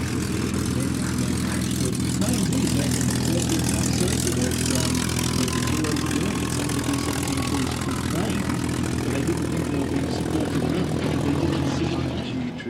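A P-51 Mustang flying at the Duxford Flying Legends airshow, a steady loud piston-engine drone holding for the whole stretch, with a faint voice carried under the roar.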